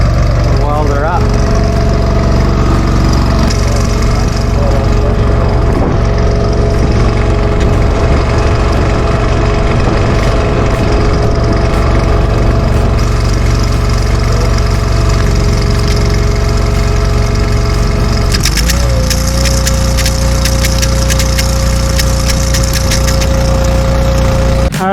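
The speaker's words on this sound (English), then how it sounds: "Weld her up." Engine-driven welder running steadily while stick welding with 1/8 rod at an off-grid ranch, a loud continuous engine drone with a hum that shifts pitch partway through as the load changes.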